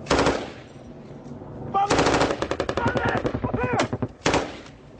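Gunfire in a firefight with the Taliban: loud, close bursts of automatic weapon fire in rapid rattling volleys, separated by short pauses, with a few isolated heavy shots, and voices faintly present.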